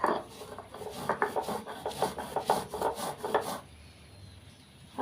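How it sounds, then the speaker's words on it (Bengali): Poppy seeds and green chillies with a little water ground on a stone slab with a stone pestle, a rhythmic scraping and rubbing of stone on stone in repeated strokes, fairly close, then fading to quiet. "এখন শিলনোড়ায় বেটে নিচ্ছি।"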